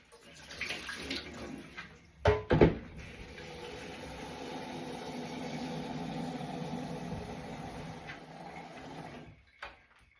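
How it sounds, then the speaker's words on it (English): Water runs steadily from a kitchen tap into a kettle for several seconds, a constant rushing flow with a couple of louder clunks near the start, heard close up and alone. "Right, that's the kettle filled for tomorrow."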